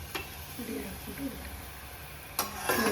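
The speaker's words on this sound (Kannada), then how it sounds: "5 ನಿಮಿಷ ಫ್ರೈ ಆದಮೇಲೆ ರುಬ್ಬಿರುವಂಥ ಮಸಾಲೆ ರುಬ್ಬಿರುವಂಥ ಮಸಾಲೆ ಹಾಕ್ಬಿಟ್ಟು" Ground masala sizzles in a pan for a mutton head curry, with a soft, low-level frying hiss and spatula scrapes, including a couple of sharper stirring strokes near the end.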